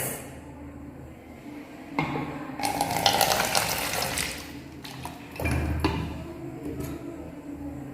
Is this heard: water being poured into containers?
yes